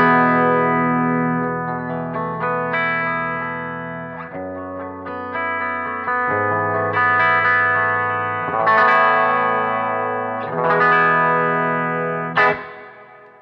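Clean electric guitar played through a pair of amps, a Zilla and a Fuchs, with the Victory sitting just at the edge of breakup; sustained chords and arpeggiated notes ring out loud and alone, with no talk over them.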